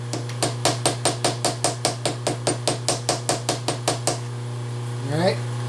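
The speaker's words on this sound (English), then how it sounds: "If you rest your fingers on the side of them when you're hammering on them, you can feel when they seat down." A hammer taps steel stack blocks down onto a milling parallel, giving about twenty quick, evenly spaced metallic strikes close by. A brief ringing scrape follows at the end.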